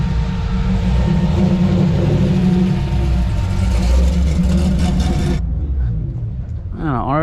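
Nissan R32 Skyline at a HAM car meet, its engine droning loud and steady with a deep rumble before cutting off abruptly, leaving a quieter scene where a voice speaks briefly.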